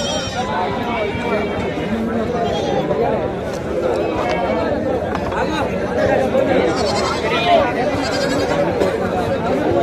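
Sheep and goats bleat repeatedly amid a busy crowd, with people chattering and calling throughout a noisy, crowded weekly animal market in Rajarampalli.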